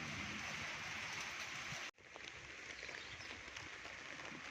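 Rain falling on a DIY tunnel dryer used for drying rice paddy, a steady dense hiss of rain with a brief drop in the middle before the patter resumes, constant and close.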